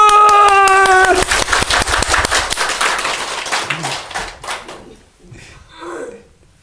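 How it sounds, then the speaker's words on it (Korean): A church congregation gives loud applause during an Easter Sunday service, dense clapping that begins under a held organ-like chord, peaks, then thins out and fades to scattered claps. "우리 다 같이 부활하신 예수님께 영광의 박수를"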